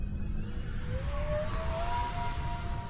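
An RC F-18 model jet's engine whining steadily at part throttle, a loud close turbine hiss with rising tonal whine and no talk.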